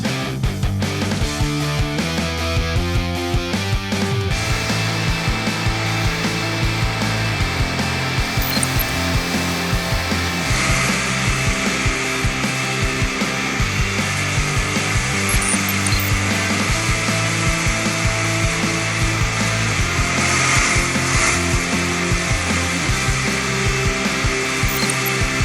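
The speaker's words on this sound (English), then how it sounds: "using the pressure washer attachment to clean out the dirty undercarriage" A pressure washer blasts the dirty undercarriage of a Volvo XC90 during detailing, a loud, steady hiss-and-roar of spraying water that runs unbroken from start to finish without speech.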